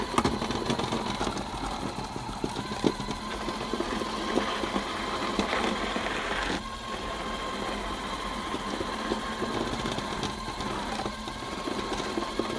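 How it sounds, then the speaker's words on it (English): A small robot's vacuum motor runs with a steady mechanical whir and buzz, droning continuously at close range with no talk. "turn left, turn on the vacuum"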